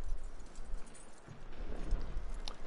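Horse hooves in the video game Red Dead Redemption 2, soft uneven clip-clop steps and shuffling close by over low rumbling ambience.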